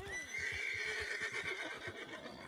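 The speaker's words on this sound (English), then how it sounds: "Oh, there's a fast horse over here." A horse in Red Dead Online whinnies loudly, its high wavering neigh running nearly the whole time, over a steady rhythm of hooves clopping underneath.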